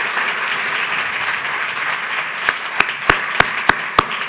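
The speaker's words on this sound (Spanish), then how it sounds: "yo quisiera que le brindemos un aplauso a Carlos porque esto es realmente destacable" An audience at a Latin American insurance and reinsurance conflict-analysis seminar applauds steadily, a dense continuous clatter of clapping that carries on throughout, with a few sharper, louder claps standing out near the end.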